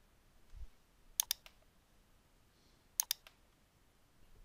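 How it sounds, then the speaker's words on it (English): Two pairs of sharp, close computer mouse clicks, about two seconds apart, sound over near silence in a quiet room. "Right-click in the instrument track and click Create Region."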